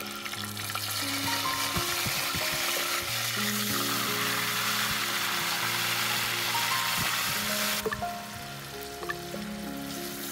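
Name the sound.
frying spices in oil for chicken potato curry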